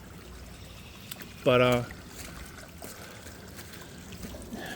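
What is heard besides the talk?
water trickling in a woodland stream after heavy rain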